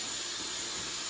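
Compressed air hisses steadily in a garage beside a 1962 Triumph TR3, a continuous broad airy rush with no breaks or voices over it.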